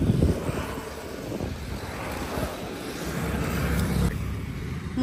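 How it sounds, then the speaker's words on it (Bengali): Wind blowing outdoors beside a lake: a steady, loud rush buffets the microphone with low rumbling gusts throughout, and no one speaks. "ঠিক আছে, হাওয়া চলছে বেশ ভালো।"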